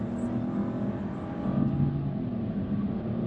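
A 2022 Chevy Trailblazer with a small 1.3-liter engine accelerates up an on-ramp, giving a steady low engine drone from inside the cabin that swells slightly as it pulls, with no talk over it.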